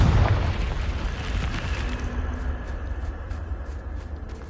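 A Confringo blasting spell explodes in a Harry Potter-style video game: one loud boom up front that rumbles and fades over a few seconds, with no talking.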